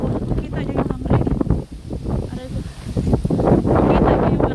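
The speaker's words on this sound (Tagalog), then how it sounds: "Naririnig nyo yun guys, sobrang lakas ng hangin." Strong wind gusting outdoors next to a workplace, buffeting the microphone in loud rumbling surges while someone talks over it.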